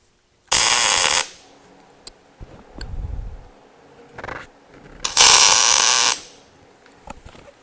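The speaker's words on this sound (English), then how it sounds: "I tack weld here and then here, but not on the rack" Two short tack welds on a steel headache rack, each a loud, sharp crackling hiss lasting about a second, separated by quieter clunks and handling noises nearby.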